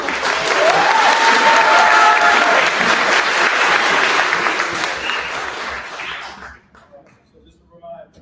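An audience at a congressional district candidate forum held at the Genesee County Jail claps loudly and steadily for several seconds. The applause then thins out quickly to scattered claps and quiet.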